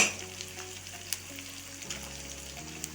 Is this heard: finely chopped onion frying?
yes